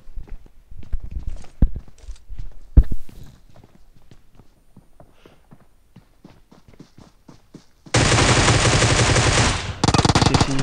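Gunfire in the mobile battle royale game PUBG Mobile: a run of sharp, scattered shots and footstep-like clicks, then from about eight seconds a loud, dense sustained burst of automatic fire that cuts briefly and resumes.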